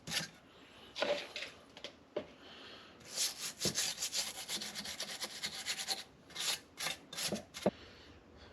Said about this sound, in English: Get rid of the rest of this old RTV gasket surface here.